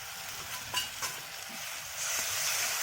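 Chili powder and turmeric masala frying in oil with cooked tomatoes give a soft, close sizzle. A few stirring taps come early on, and the hiss swells slightly toward the end.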